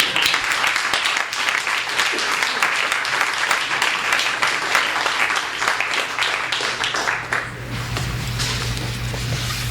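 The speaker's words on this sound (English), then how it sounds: "keep applauding for Gideon Lewis-Kraus" Continuous crowd applause fills a literary event hall for writer Gideon Lewis-Kraus, a thick, even wash of clapping that holds steady before thinning slightly toward the close.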